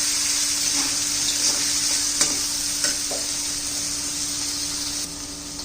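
Turmeric fries in hot oil with homemade masala for a black bean curry, a constant bright sizzle with light spatula scrapes and taps stirring through the pan.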